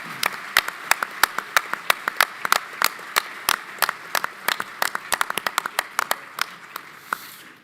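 Audience at the Markel Group 2024 Omaha brunch applauding the company's associates, a dense run of sharp claps that stays steady and close for several seconds before thinning slightly at the end, with no speech over it.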